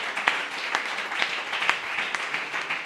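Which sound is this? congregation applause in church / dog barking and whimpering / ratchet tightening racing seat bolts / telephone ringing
congregation applause in church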